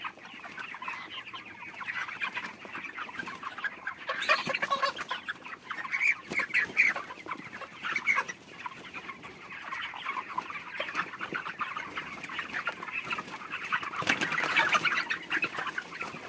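Chickens cluck and squawk throughout a poultry shed on a farm, many birds overlapping in a steady, close chorus with a few louder bursts.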